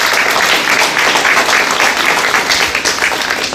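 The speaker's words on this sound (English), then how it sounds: "Let's give her a round of applause." A gallery audience at a museum exhibition of paintings and drawings bursts into a loud, dense round of applause, steady continuous clapping filling the room with no talk over it.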